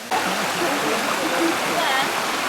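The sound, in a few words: river stream flowing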